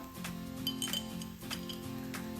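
A metal spoon clinking against a pan or bowl while ginger garlic paste is added for a healthy snack, a few sharp, bright taps close by with no talk.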